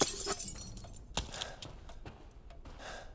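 In Resident Evil Village, glass shatters in a sharp burst, followed by scattered tinkling shards and a few clinks that fade out over the next few seconds.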